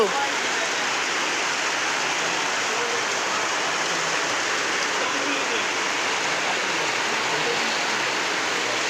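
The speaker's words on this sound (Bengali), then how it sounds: "বাড়িতে প্রচণ্ড বৃষ্টি হচ্ছে প্রচণ্ড" Heavy rain pours steadily at home on a cloudy day, a dense, continuous hiss that stays constant and fairly loud throughout, with no talk heard.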